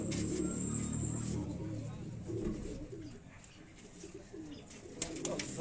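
Close, continuous throaty cooing comes from fancy pigeons in a Quetta loft, including a chapra bird. The murmurs repeat in short rolls, and a few sharp clicks sound near the end.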